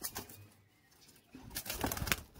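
Madrasi pigeons in a loft give faint low coos and a few bursts of wing flapping, fairly quiet with background rustle.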